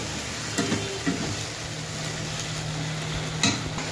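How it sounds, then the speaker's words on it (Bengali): A paste of tomato, soy sauce and chili sauce with chopped tomato and a splash of water sizzles steadily in a pan, with a few scraping knocks of a spatula as it is stirred. "তো ভালো করে নাড়াচাড়া করে দিচ্ছে।"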